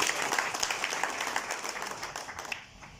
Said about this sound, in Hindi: तो इनके लिए भरपूर तालियां।